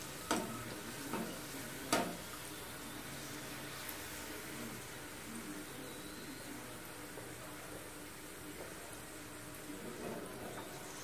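Poori frying in hot oil, a soft continuous sizzle with a few sharp clinks and taps near the start, fairly quiet and steady, no voices.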